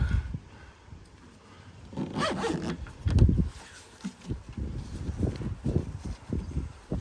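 Storage bags being zipped shut beside a camper, several zipper pulls in short bursts with rustling and handling noise between them, close and fairly quiet, no talking.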